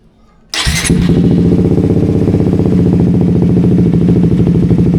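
A Suzuki GSX 150 motorcycle fitted with an aftermarket exhaust and aftermarket ECU fires up after a short quiet pause, then settles into a loud, steady, throaty idle close by with no one talking.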